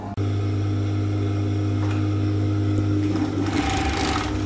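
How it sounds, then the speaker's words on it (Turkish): An overlock sewing machine runs steadily, stitching a strip of elastic folded double, with a constant close motor hum and whir and a brief sharper rise near the end. "Bu şekilde lastiğimi dikeceğim."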